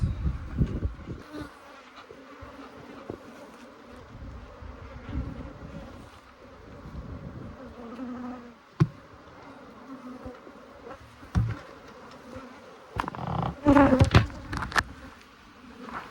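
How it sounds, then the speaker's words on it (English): Agitated honey bees swarm and buzz around an open hive during late-winter maintenance, a continuous close droning hum that surges into louder, denser bursts near the end. "the bees are pissed at us, but we at least pushed through"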